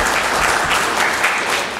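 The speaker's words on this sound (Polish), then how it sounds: "to jest brawa dla nich" Loud, dense clapping fills a city council session hall, a close, continuous wash of many hands with no voices on top.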